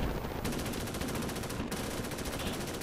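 Rapid automatic gunfire from a military video game, a sustained dense rattle of machine-gun bursts filling the whole stretch at steady loudness, with no voices.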